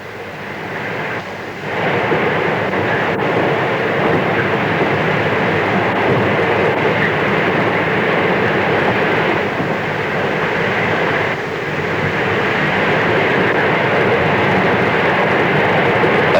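Steady roar and rattle of a train travelling across the Nullarbor Plain in Australia, heard from on board, continuous and fairly loud with faint clicks from the rails.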